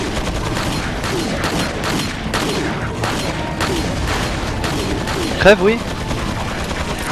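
Shotgun blasts and gunfire in the video game Resident Evil 4, repeated loud shots in a busy fight, with someone talking over them.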